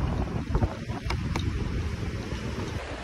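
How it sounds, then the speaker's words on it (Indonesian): Strong sea wind gusts across the shore at the floating Annur mosque in Tapaktuan, South Aceh, with a dense, rushing roar of wind buffeting the microphone and surf churning underneath, loud and continuous with no voices. "sembari diterpa angin laut yang kencang nih, dan di depan kita gulungan ombaknya begitu ganas"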